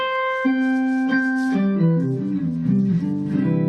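Electric guitar run through a pitch-shifting pedal, giving a sustained, organ-like tone; a steady high note gives way to a melodic line of overlapping harmonised notes, loud and clear with no talking.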